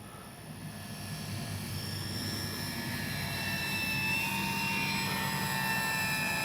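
A radio-controlled Dynam F6F Hellcat model plane buzzes steadily close by, its engine whine holding strong and growing slightly louder as it passes low, with no voices.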